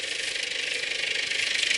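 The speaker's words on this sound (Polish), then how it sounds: "Silnik Perkinsa czterocylindrowy na turbinie, fajnie chodzi" Case International 1394 tractor with a Perkins four-cylinder turbo engine running steadily, a continuous near engine drone with a bright high whine and faint rattle, no speech.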